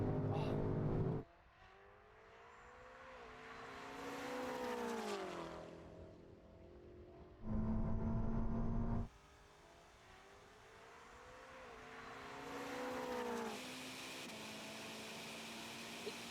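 A tuned BMW races a Ferrari SF90, their engines rising in pitch through long accelerating sweeps, with bursts of louder noise cutting in between the pulls.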